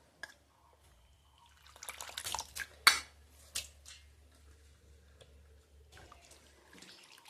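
Grated raw potato squished and squeezed by hand in a bowl of water, with quiet splashes, drips and wet sloshing in irregular bursts, close and soft.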